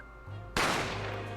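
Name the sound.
gunshot sound effect in The Great Ace Attorney Chronicles video game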